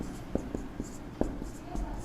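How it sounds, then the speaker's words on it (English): Writing on a board while working through a chemistry lesson on nucleophiles: a series of short, close taps and strokes at an uneven rhythm over a steady low background hum. "Or let me write it properly."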